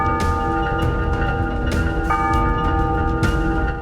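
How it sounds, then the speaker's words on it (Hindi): Temple bells ringing near a leopard habitat in Rajasthan, a steady metallic clanging with sharp repeated strikes and sustained ringing tones, loud and continuous throughout. "कुछ ही देर में मंदिर की घंटियां सुनाई देने लगी"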